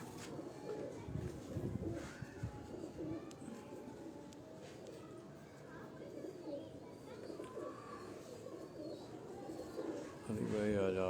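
Pigeons in a breeder's loft cooing in a steady, overlapping murmur throughout, with voices faintly present in the background.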